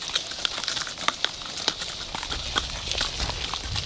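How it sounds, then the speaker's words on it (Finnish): Ponies out on a pasture give irregular hoof clip-clop, a scatter of soft, fairly distant thuds and clicks over steady outdoor background noise. "Siellä on meidän muut ponimme. Ei nyt näy, mutta kuuluu."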